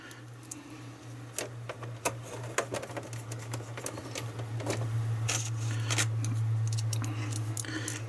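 Screws being driven into a Commodore Amiga 500 computer case by hand: a series of sharp, irregular ticks and clicks over a steady low hum, close and fairly quiet, with no talking.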